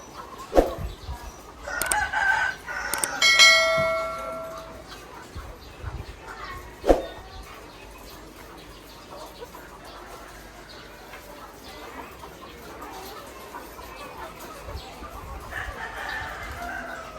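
Chickens clucking and a rooster crowing nearby on a layer farm in an early burst, then quieter background clucks and outdoor ambience.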